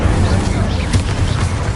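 Incendio fire spell cast in Hogwarts Legacy, a loud, dense, continuous roaring burst of flame with booming low rumble throughout, heard close and mixed with other game sounds and voices.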